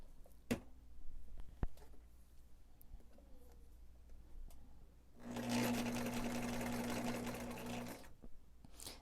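A sewing machine stitches a straight run of fabric for about three seconds, a steady close whir with a bright hum, set between quiet handling taps and a faint cooing bird.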